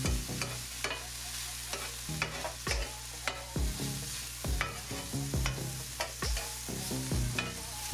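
Ground turkey gets stirred through spicy gochujang sauce in a hot pan for tacos, with repeated loud spatula scrapes and knocks in an uneven rhythm over a soft continuous sizzle.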